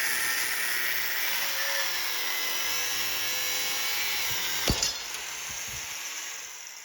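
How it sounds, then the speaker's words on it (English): A grinder trims excess from a clamped stack of steel leaf springs with a steady, high, hissing whine. A short sharp clank comes near the end, then the grinding continues slightly quieter. "We clamp the stack and trim the excess with the grinder"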